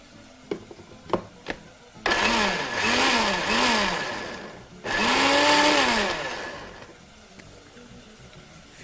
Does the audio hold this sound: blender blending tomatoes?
yes